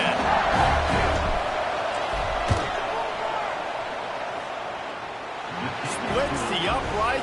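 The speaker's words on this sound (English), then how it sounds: "This crowd trying to do its part to get inside the kicker's head." A large football stadium crowd roars continuously as a long field goal attempt lines up, a dense, distant wall of noise with a commentator talking over it.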